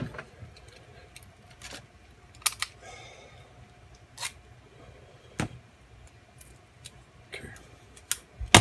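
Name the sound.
peeling tape off a lock key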